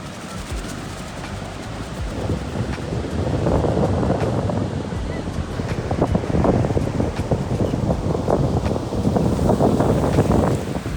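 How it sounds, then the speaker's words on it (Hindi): Strong wind sweeps across a beach under a cloudy sky, roaring continuously into the microphone with buffeting gusts that grow louder, and surf rushes beneath it. "कितना तेज हवा चल रहा है।"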